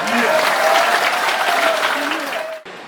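A crowd applauds steadily with dense clapping at a church deacon ordination, loud and sustained, fading slightly before stopping abruptly; a voice is faintly audible underneath.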